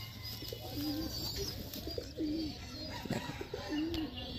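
Andhra pigeons cooing nearby in a loft, soft repeated rolling coos at an unhurried pace against a faint background hum.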